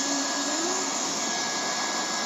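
A hot air welding gun blasts a continuous, loud, even roar of hot air while a membrane seam is welded, and the hiss stays unchanged from start to finish.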